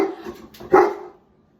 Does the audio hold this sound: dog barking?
yes